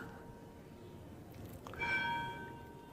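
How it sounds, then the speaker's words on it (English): A bell rings to end a class, a single resonant strike with a bright metallic tone that lingers briefly over a steady room hum. "This is the end, the bell."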